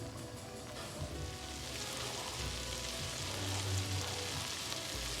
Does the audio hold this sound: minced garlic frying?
yes